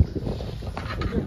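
Strong wind buffeting a fishing boat at sea, a low rumbling rush with gusty flutter against the microphone, short and steady, faint voice murmur underneath.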